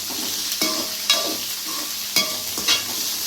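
Onions frying in a pan for a simple home-style okra curry, with a steady broadband sizzle broken by four sharp scraping stirs of a spatula, close and fairly loud, no talking.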